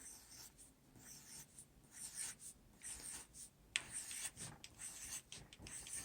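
A pencil draws circles, zigzags and wavy patterns on paper for an Easter egg art project, a soft, continuous scratching with short strokes and brief pauses, close and quiet, with no talking.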